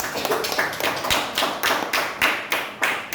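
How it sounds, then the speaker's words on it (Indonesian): Students in a classroom applaud a group with rhythmic, unison clapping, a regular series of crisp, fairly close claps in a steady beat. "beri tepuk tangan untuk kelompok 4 ya"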